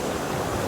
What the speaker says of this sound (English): these waves don't want me here anymore